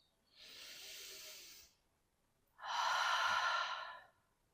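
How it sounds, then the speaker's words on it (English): Two long breaths in yoga relaxation: a steady breath in through the nose, a pause, then a louder, hissing audible breath out, close and alone in quiet. "We finish with a deep breath in through the nose and an audible breath out."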